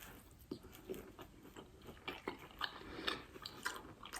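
Close, wet chewing and crunching of cheesy broccoli in a low-carb meal, soft bites and mouth sounds repeating irregularly at close range with no talking.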